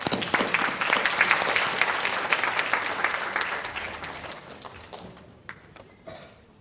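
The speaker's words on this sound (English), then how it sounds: "Shall we give them a round of applause?" Conference audience applauding as a group, a dense burst of many hands clapping that stays loud, then thins and fades toward the end with a few scattered final claps.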